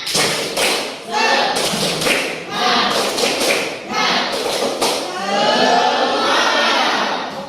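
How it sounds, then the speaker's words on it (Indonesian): A class performs a rhythmic group spirit clap, bursts of sharp claps and thumps in short patterned phrases separated by brief pauses, mixed with shouted voices chanting along, loud and close. "Oke, kita tepuk semangat dulu. Tepuk semangat."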